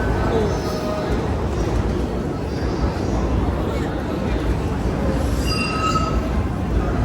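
A train passes at Narita Airport at night, a steady loud rumble of wheels with faint squeals, sustained throughout, with people talking over it.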